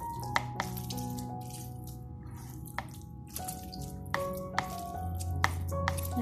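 Water drains and drips from squeezed chhena made from milk powder for rasgulla. Scattered soft drips and wet squelches sound close, over quiet background music.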